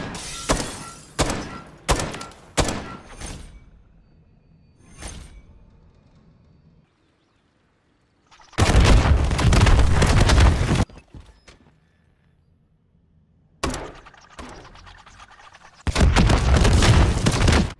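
Grenade launcher shots and explosions in the video game Modern Warfare III, heavy booms and thuds in bursts, some single thumps, some long loud blasts, separated by quiet gaps.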